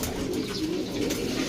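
Pigeons in a loft coo in a soft, continuous low murmur, several birds layered together close by, steady throughout with no talking.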